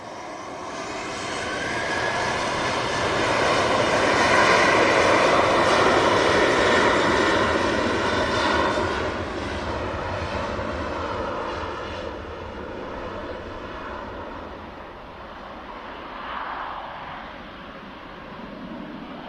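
Ryanair jet airliner on the departure road, a broad steady roar of engines swelling over the first several seconds and then slowly easing off, heard alone from a moderate distance.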